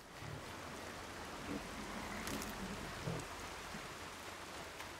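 Steady rain falls in the video game Horizon Zero Dawn, a soft, even hiss of drops on surfaces, with faint low rumbles beneath and no voices.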